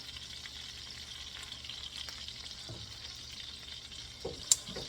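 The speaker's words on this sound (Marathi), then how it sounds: "गोल्डन ब्राऊन झालेलं आहे पनीर आपलं." Paneer fries golden brown in a pan with a steady, moderately quiet sizzle, a few soft clinks and one sharp tap near the end.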